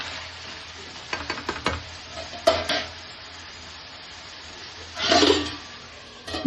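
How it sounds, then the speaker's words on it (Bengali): Mutton curry with extra cinnamon pieces being stirred in a kadai, low sizzling under a run of quick spoon clinks, a few louder scrapes and a longer rough scraping stir near the end. "এবার ভালো করে একটু নেড়ে চেড়ে দিচ্ছি।"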